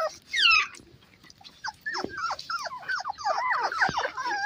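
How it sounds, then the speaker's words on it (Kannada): Shih Tzu, Beagle and Golden Retriever puppies at play give a string of high yips, whines and whimpers, one louder squeal first, then rapid overlapping cries close by. "ನನ್ನ ಸುತ್ತಮುತ್ತ ಎಲ್ಲ ಪಪ್ಪಿಗಳೇ ತುಂಬ್ಕೊಬಿಟ್ಟಿದೆ"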